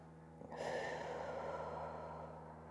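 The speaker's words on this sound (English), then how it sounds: "Big inhales and exhales." A single deep, audible breath during a Pilates core workout, a long, close exhale that starts abruptly and slowly fades, with a faint steady hum underneath.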